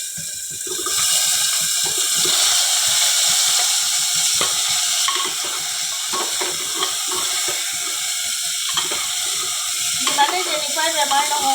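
Cut potatoes hit a hot pan and fry with a loud, steady sizzle for a masoor lentil dish, while a utensil stirs and scrapes them at close range with occasional clatters.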